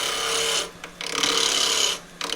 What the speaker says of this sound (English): So this one I'm going to do with a skew chisel.